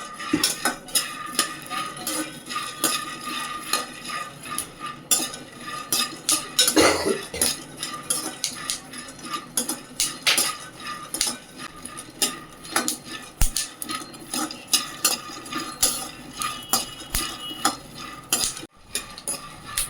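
Peanuts roast in a pan, stirred continuously with a utensil, giving rapid close scraping, rattling and clinking with occasional louder knocks, and no voices.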